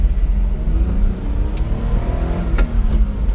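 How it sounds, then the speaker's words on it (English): Daihatsu Hijet dump truck engine revving hard while climbing a hill on a test drive, a loud, steady mid-pitched drone with shifting tones and no talk over it. "Now we're going to do the test drive. We're going to go up this hill."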